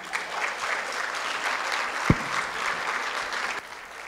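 An audience at an education conference claps steadily as a speaker is welcomed to the stage, dense even applause with a single sharp knock partway through.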